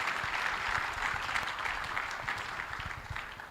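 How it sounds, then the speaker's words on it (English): An audience at a student leadership summit applauds a speaker, a steady, full burst of clapping from many hands that holds evenly throughout. "Let's clap for him."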